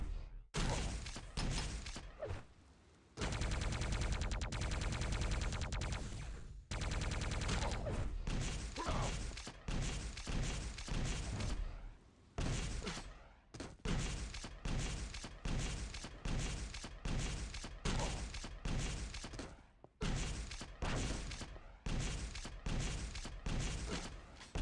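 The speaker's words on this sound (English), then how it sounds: "Small rocket stack." Rocket launcher blasts and rocket jumps in a Quake 3 DeFRaG trickjump run, loud repeated explosive bursts in quick succession with brief gaps, dense and continuous throughout.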